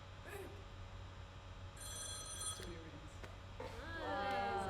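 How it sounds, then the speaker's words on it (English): A telephone ring cue played back through a theatre sound system while it is being programmed, heard as repeated bright electronic bell tones that are fairly faint, with a low background hum and brief voices nearby. "Telephone ringing, telephone ringing."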